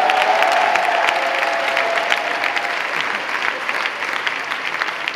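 A church congregation breaks into sustained applause and cheering during a live service, a dense, steady wash of clapping that holds at full strength for several seconds before easing slightly.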